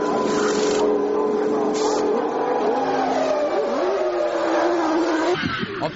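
Formula 1 race car engines from the 1999 season, a Jordan Honda and a McLaren Mercedes entering the pits, sustained high-pitched engine whine rising and falling in pitch, loud and continuous, with a commentator talking over it.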